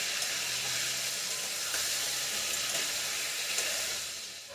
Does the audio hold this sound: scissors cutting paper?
no